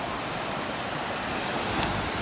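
Steady broadband wash of sea surf at a seaside promenade in Side, Turkey, constant and fairly close, with no voices and no distinct breaks between waves.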